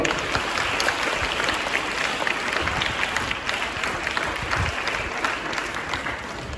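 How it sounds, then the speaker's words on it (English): Steady, dense applause from an audience at a school event in Kristu Jyoti School, a continuous wash of many hands clapping at even loudness throughout. "So a big round of applause for all of you."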